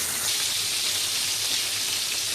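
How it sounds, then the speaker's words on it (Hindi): Fish fries Konkani style in hot oil in a pan, giving a close, steady, hissing sizzle that crackles evenly throughout with no voices over it. "मच्छी फ्राई कर रही हूँ।"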